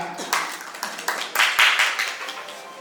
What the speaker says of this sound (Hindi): जोरदार तालियां बजाएं आप।